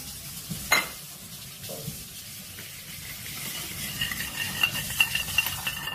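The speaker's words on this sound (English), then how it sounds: "you blend the ghee and the salt together" Ghee and salt blended together in a bowl, with a sharp clink of utensil on the bowl followed by soft, intermittent scraping and stirring sounds, close and quiet with no voices.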